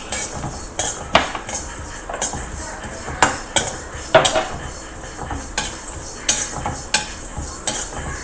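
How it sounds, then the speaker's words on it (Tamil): A spoonful of mustard seeds and spices is sautéed in a pan for chicken pickle. A spoon clinks and scrapes against the metal pan in a loud, busy rhythm over a faint sizzle, with no speech. "எல்லாத்தையும் போட்டு வதக்க போகிறோம்."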